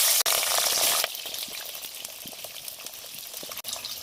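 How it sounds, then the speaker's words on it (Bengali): Cauliflower pieces go into hot oil in a pan for a vegetarian cauliflower and potato curry, bursting into a loud steady sizzle that settles into continuous crackling frying. "এবার ফুলকপিগুলো ভাজার জন্য দিয়ে দেবো।"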